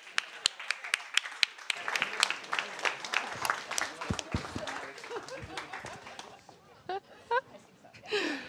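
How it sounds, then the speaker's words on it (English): Audience applauding at a science and society forum on artificial intelligence as a speaker is welcomed on stage, clapping building then thinning out, with voices talking over it and near the end. "Oh, applause."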